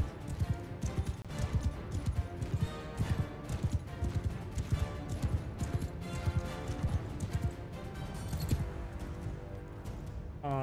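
Horse hooves gallop in Mount & Blade II: Bannerlord, a fast steady drumming of hoofbeats that runs through the whole stretch over a rumbling game backdrop, with no talk.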